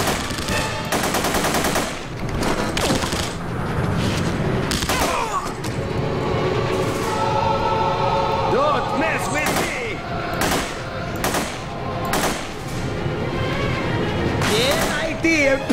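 Rapid gunfire from The Punisher video game, loud bursts of shots and single cracks repeating throughout amid explosions and game sound, with someone talking over the action.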